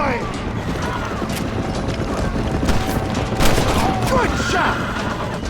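Gunfire in the Western game Red Dead Redemption: scattered sharp shots ring out over a busy outdoor bed of hooves and ambient noise, with characters' voices calling out in between.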